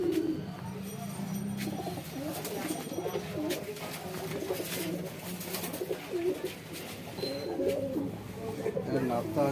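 Pigeons cooing at a pigeon shop, several birds giving repeated throaty coos near and far, mixed with background chatter from people.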